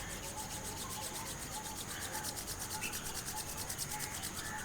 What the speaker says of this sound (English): just rub your hands